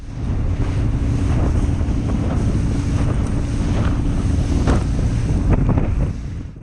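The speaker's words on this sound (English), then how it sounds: "just how rough it is being in 4 feet high waves." Boat pounding into 4-foot waves on Loch Linnhe, giving a constant loud roar of wind buffeting and rushing water with thumps as the hull slams through the chop.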